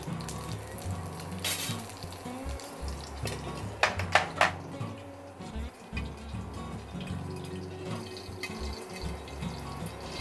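Chopped green chillies tossed into hot oil with popping mustard seeds, a steady sizzle with a few sharp crackling bursts around the middle.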